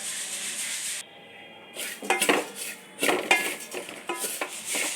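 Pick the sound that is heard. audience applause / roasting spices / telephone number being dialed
roasting spices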